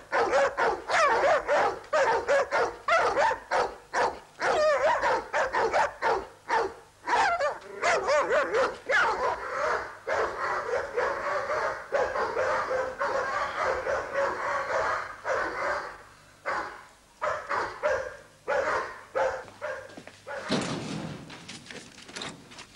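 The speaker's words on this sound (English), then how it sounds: "Whose are the dogs, then?" Several guard dogs bark repeatedly and loudly, overlapping sharp barks and yips in rapid bursts that continue for over twenty seconds, with a brief lull near the end.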